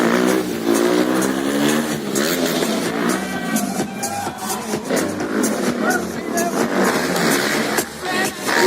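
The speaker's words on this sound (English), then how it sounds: "Riding on a KTM Duke" A KTM Duke 250 motorcycle engine revs hard and loud at a KTM Orange Day stunt show, rising and falling in continuous bursts, with crowd noise and talk in the background.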